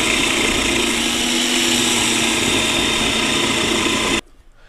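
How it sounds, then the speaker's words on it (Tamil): A Brewine electric coconut scraper grates coconut with a loud, continuous motor whir and scraping buzz that cuts off abruptly near the end, leaving quiet room tone. "நம்ம சூப்பராக வந்து தேங்காய் திருவிக்கலாம்"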